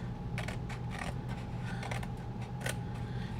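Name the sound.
scissors cutting a notecard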